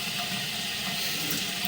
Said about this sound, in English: there we go, there's some water